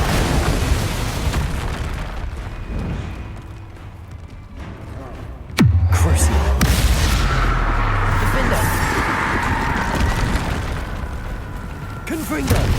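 Bombarda blasting spell going off in Hogwarts Legacy, a sudden loud boom at about the midpoint followed by a low rumbling tail, set within ongoing combat effects and game noise.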